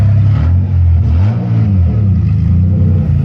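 A car with a swapped Intech engine running and driving, giving a loud, close low rumble that swells and dips as it moves, with some exhaust clatter underneath.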